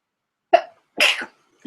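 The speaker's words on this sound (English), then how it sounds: "I have to sneeze again." A person sneezes close up, a short sharp intake followed by a loud burst and a small trailing sound, with silence around it.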